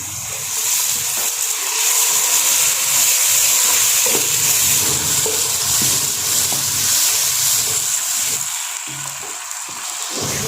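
Loud, steady sizzling of tomato paste frying with onions in a hot pan, a continuous crackling hiss with occasional stirring scrapes, no voices.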